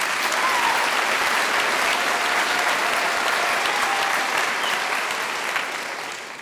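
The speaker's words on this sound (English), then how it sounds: "give him a round of applause" Audience applause at a school mariachi concert: dense, loud clapping from a full crowd, sustained evenly and then gradually tapering toward the end.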